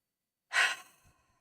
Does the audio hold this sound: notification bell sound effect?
no